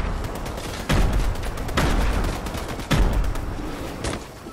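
Video game gunfire in bursts: three sharp, loud volleys about a second apart, each trailing into a rattle of rapid shots and low rumble, with no talking.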